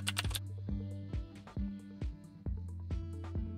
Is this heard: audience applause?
no